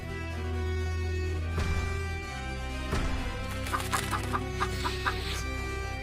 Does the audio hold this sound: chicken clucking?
yes